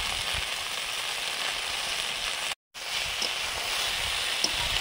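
Okra frying in mustard oil with turmeric gives off a steady, dense sizzle that holds evenly throughout, broken only by a brief moment of silence near the middle.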